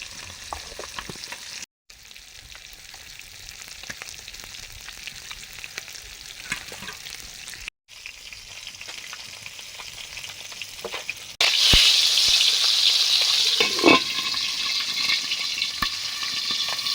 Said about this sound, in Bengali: বোয়াল মাছের মুড়োটা ভাজছি ঢাকা দিয়ে দিয়ে